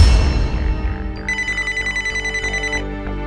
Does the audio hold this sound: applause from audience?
no